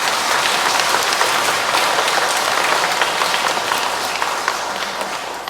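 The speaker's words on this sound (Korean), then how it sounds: "박수" A church congregation applauds during Sunday Mass announcements, with thick, continuous clapping that fills the room and fades slightly toward the end.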